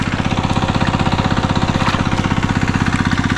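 A fishing boat's engine runs loud and close with a fast, even chugging pulse throughout.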